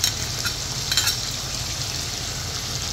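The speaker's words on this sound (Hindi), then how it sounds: "इसको भी हम मछली के साथ अच्छी तरह से फ्राई कर लेंगे।" Fish sizzles with cumin and garlic ginger paste in a karahi, a continuous loud frying hiss with a couple of brief stirring scrapes near the start.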